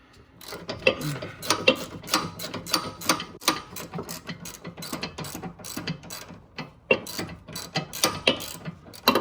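A ratchet wrench clicks in quick repeated bursts while turning a sway bar link bolt on a Jeep Cherokee, the sharp close-up ticks coming in uneven runs with brief pauses between strokes.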